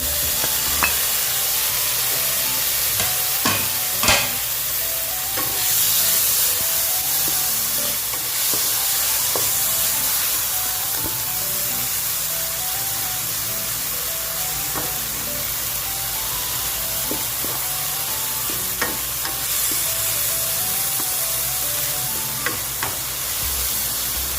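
Tomato goes into a pan of pork heart and tongue, followed by a continuous soft sizzle of frying with intermittent scraping and clinking stirring strokes, moderately loud and steady throughout.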